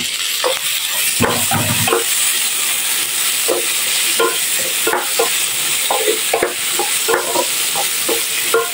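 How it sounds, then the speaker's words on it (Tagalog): Chopped tomato stir-fries in a hot pan for an ampalaya and pork belly dish, a constant loud sizzle punctuated by repeated scraping and tapping of a utensil, close up with no speech. "Lutuin muna natin yung ating tomato hanggang sa lumambot."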